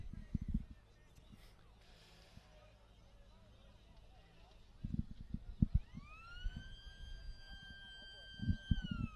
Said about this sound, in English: As we see the halftime siren blow